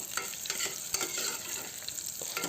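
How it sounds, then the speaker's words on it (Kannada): Onion, garlic and dry red chillies frying in a pan, a soft continuous sizzle broken by several scraping stirs of a spoon, fairly quiet and close, with no voices. "ಸ್ವಲ್ಪ ಚೆನ್ನಾಗಿ ಫ್ರೈ ಮಾಡ್ಕೊಬೇಕು ಹಸಿ ವಾಸನೆ ಹೋಗೋವರೆಗೂ ಈರುಳ್ಳಿದು ಮತ್ತು ಬೆಳ್ಳುಳ್ಳಿದು"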